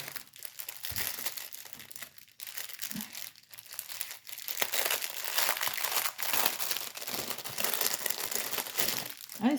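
Plastic packaging for digital art supplies crinkles and crackles as it is handled and opened, with steady close rustling that grows busier and louder in the second half.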